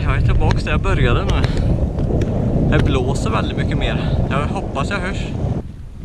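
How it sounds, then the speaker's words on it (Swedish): Strong coastal wind at Stångehuvud near Lysekil, Bohuslän, buffets the microphone in a steady loud rumble throughout, with someone talking over it most of the time before the gusts ease slightly near the end. "Det blåser väldigt mycket mer."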